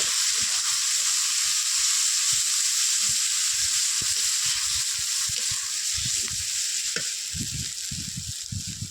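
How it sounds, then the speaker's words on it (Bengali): Pieces from a 4 kg catla fish frying with salt, chilli powder and turmeric, a loud continuous hiss of hot oil with soft low thumps and scrapes as the pieces are turned. "স্বাদ মতো লবণ স্বাদ মতন হলুদ দিয়ে ভালো করে নেড়ে কেড়ে নেব"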